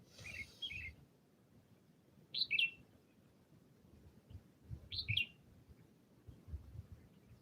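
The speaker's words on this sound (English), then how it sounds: "I gotta listen to the birds." Birds chirp in the open air at sunrise, with a small burst of quick high notes at the start and then two separate sharp tweets a few seconds apart over faint low background rumble.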